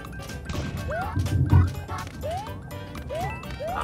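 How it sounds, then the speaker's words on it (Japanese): A roulette chime from Super Mario Bros. U keeps repeating as a series of rising electronic sweeps, roughly one every second, layered over busy in-game sound effects with no talking. "なんかさっきからずっとルーレットの音が聞こえるんだけど"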